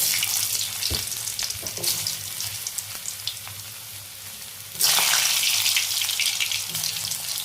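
Potatoes go into hot oil already seasoned with panch phoron, and a steady sizzle with scattered pops and stirring clicks jumps sharply louder and denser partway through as the frying takes hold.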